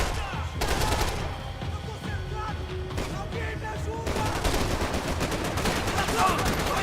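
Rapid gunfire in the Max Payne 3 video game, dense bursts of shots crackling over a busy in-game background, loud and continuous through most of the stretch.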